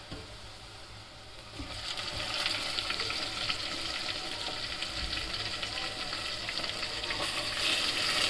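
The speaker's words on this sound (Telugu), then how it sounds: "ఇవిగా చికెన్ ముక్కలు కడిగినవి వేసుకుంటున్నాను" Washed broiler chicken pieces drop into a pan with turmeric and green chillies. A soft steady sizzle swells into a louder, sustained hiss of frying, with faint stirring.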